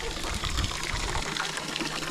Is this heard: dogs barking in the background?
no